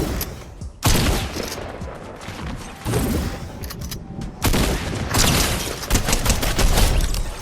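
Auto shotgun in Fortnite fires loud, rapid blasts in clustered bursts, dense and close, with booming impacts layered throughout game sound effects.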